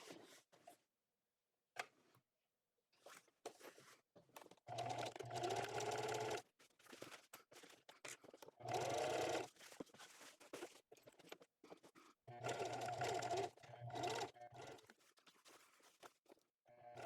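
A domestic sewing machine top-stitches a tote bag in short, stop-start bursts of whirring, with faint scrapes and clicks of fabric handling in the quiet gaps.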